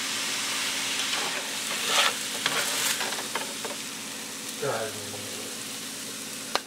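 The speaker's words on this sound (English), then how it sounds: "Now we're basically just heating the rice through." Leftover rice with sausage and foraged mushrooms fries steadily in a pan, a continuous sizzle broken by occasional stirring scrapes and clinks.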